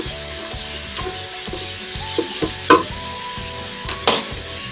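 Cumin seeds dropped into hot oil with golden garlic in a pan, a steady sizzle under a low rhythmic background hum, with a couple of brief clinks of a spoon, close, no talk.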